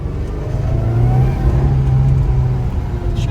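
A car engine revs up close and loud, the pitch rising and holding before easing off, with a light flutter from the turbo after the blow-off valve has been blocked.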